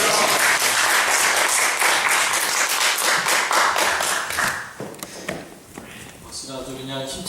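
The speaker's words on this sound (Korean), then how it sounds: "박수가 아주 그냥 힘차게 쳐주시네요." A church congregation applauds loudly at a Sunday service, dense rapid clapping from many hands that gradually thins out and fades as a voice begins speaking.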